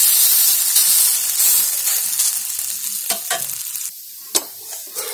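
Bottle gourd pancake (dhirde) roasting in a pan with a little oil, a loud, dense sizzle and steamy hiss that gradually settles, with a few spatula scrapes and taps toward the end.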